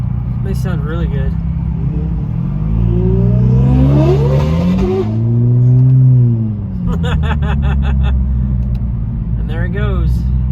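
A Ferrari accelerates hard nearby, its engine revving and climbing through a long sweeping pull before backing off, then short bursts follow, heard loudly over steady road and traffic noise with people talking.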